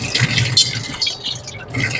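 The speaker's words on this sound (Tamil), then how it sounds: "அரிசி இதில் போடணும்" Washed rice is tipped into a pot of water for Bangalore-style chicken donne biryani, making splashy, pattering pours in uneven bursts close by.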